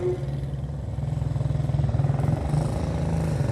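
A vintage BSA motorcycle with a three-speed gearbox and solid rear end idles and runs at a museum vehicle demonstration, its engine chugging steadily in a close, even low throb.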